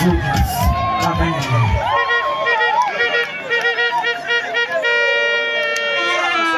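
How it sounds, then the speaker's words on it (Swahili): Crowd at an outdoor gospel meeting in Mwanzugi, Igunga, Tabora, sending up shouts and a long chorus of high, wavering ululations over clapping, loud and sustained, with voices heard in the mix. "Ongeza makofi na vigelegele."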